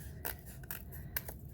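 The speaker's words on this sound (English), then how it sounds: "we're going to be making that line with our scissors" Scissors cutting folded paper for papel picado, a few short crisp snips close by, faint over a low steady background hum.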